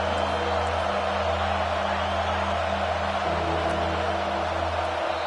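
A loud, roaring football stadium crowd at a Ducks game, a dense steady wall of noise with no breaks, sustained cheering and whooping rising from the stands.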